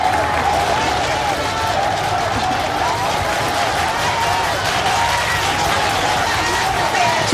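Sustained applause from a gathered crowd greets Mexico City head of government Andrés Manuel López Obrador at the entrance of the government building in the early morning, a steady dense clatter of clapping with faint crowd murmur throughout.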